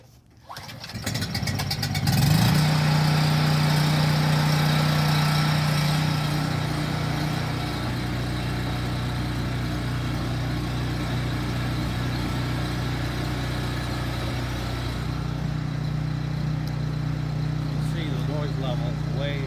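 A generator inside a quiet shed enclosure with an external muffler cranks and starts, roaring loudly at first, then settling into a steadier, muffled running drone that continues to the end, with some talking heard.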